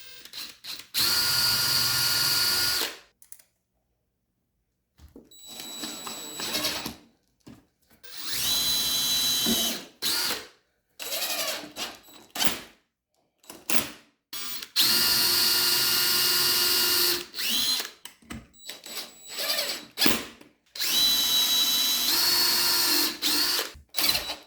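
Power drill driving screws into wood while building a homemade Kydex press, several sustained whirring bursts of a few seconds each separated by pauses and short clicks, close and loud.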